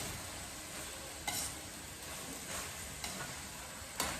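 Ginger, onion and garlic sauté in a hot pan for coconut-milk laing, giving a steady close sizzle with a few sharp utensil scrapes against the pan.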